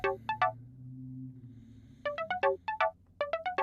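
Short bright synth pluck notes with stereo detune modulation switched off, played as a few single notes and then a quicker run of plucks, clean and tonal over a soft sustained low pad.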